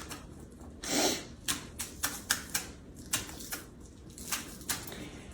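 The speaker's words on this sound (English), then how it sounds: "And just finely chopping it up in little pieces." Quick, close knife taps on a cutting board as green onion is finely chopped in a home kitchen, with one louder scrape at the start followed by a steady run of light chops.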